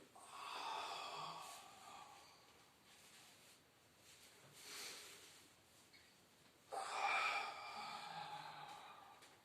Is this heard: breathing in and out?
yes